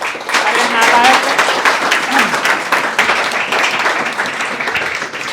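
An audience at an NDA 2 2023 result announcement claps for three selected candidates, a dense, steady patter of many hands lasting several seconds, with voices talking over it.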